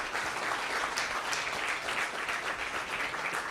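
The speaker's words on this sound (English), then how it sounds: "Yes, that's worth applauding." An audience applauds steadily at a Black History celebration in Leimert Park, a dense, continuous clapping that carries at moderate volume throughout.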